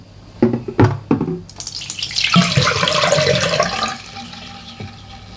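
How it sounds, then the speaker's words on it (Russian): Dirty water is poured out of a vacuum cleaner's collection container and the container is rinsed under a running tap, a few knocks and clatters first, then a steady close splash and gush of water. "достать этот контейнер, вылить грязную воду, помыть и назад поставить"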